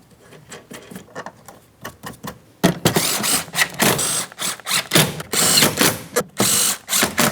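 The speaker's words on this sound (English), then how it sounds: "When you do have it in place, start on all 4 of your 10mm headed mounting nuts. After they're all started on, snug them up." Ratchet snugging 10mm mounting nuts on a 2003-2006 Cadillac CTS rear door panel: quick bursts of close clicking, softer at first, then louder repeated ratcheting strokes with short pauses between.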